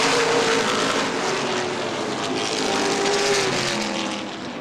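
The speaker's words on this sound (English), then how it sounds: "green flag, we're back racing." Late model sportsman race cars roar around Angola Motorsport Speedway in an ICAR event, a dense continuous engine drone with shifting pitch, loud and steady before easing slightly at the end.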